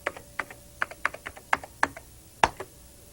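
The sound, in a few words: typing a password on a computer keyboard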